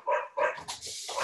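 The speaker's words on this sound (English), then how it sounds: "The dog is barking" A dog barks twice in quick succession, close by and fairly loud, each bark short and sharp, followed by a softer whining yip, with a calm indoor setting behind it.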